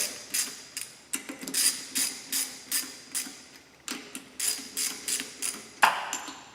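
A ratchet wrench snugs up the bolts while a Barton Hybrid 3 short shifter is installed, about a dozen close, crisp clicking strokes in steady rhythm with a brief pause partway through.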